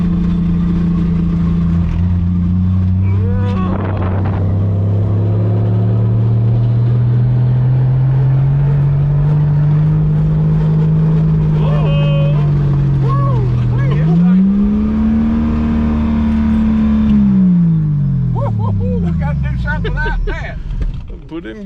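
A 1959 Edsel Ranger's engine runs and revs, its deep drone climbing and falling in pitch through several long, loud sweeps, with people talking over it.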